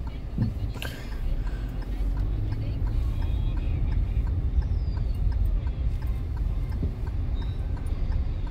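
A bus passes by on a winter street, a broad, steady low rumble of engine and road noise that swells and fills the scene, with faint ticking and a brief thump early on.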